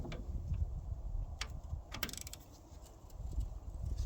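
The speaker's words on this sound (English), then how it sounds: "that one we can put a ratchet on" Ratchet turning a bolt on the engine of a Miller 400D welder during engine removal, with a series of close, crisp clicking pawl strokes in short bursts over faint background noise and no talking.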